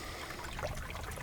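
Water pours steadily out of a buried drain tile, probably 8-inch, running high after spring flooding, a continuous close trickling and splashing rush with no voices.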